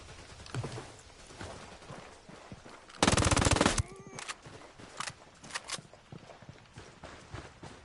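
Gunfire in a PS4 video game, a short loud burst of rapid automatic shots amid scattered lighter clatter and footstep-like taps, with no voices.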